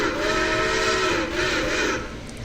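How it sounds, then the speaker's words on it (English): A Central of Georgia six-chime steam locomotive whistle sounds loud and close as one long, steady multi-tone chord, dipping briefly midway before holding on and fading slightly at the end. "She is equipped with a Central of Georgia 6 chime whistle."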